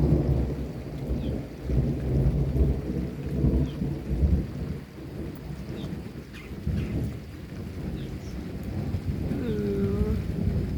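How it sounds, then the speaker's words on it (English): Deep rolling thunder from lightning during a rainy storm, long low rumbles swelling and fading over steady heavy rain, with no voices. "ooh, more lightning."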